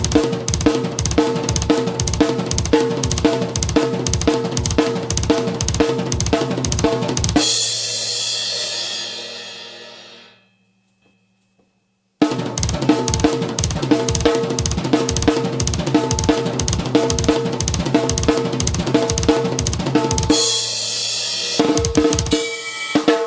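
A drum kit plays a fast linear fill with triplets between snare and floor tom, dense rapid hits ending on a crash, then a brief silence before the same busy pattern repeats and closes with another cymbal crash.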